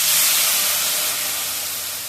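Ginger, cumin and coriander spice paste sizzles loudly in hot oil after fish has been fried, a steady bright hiss that eases slightly toward the end.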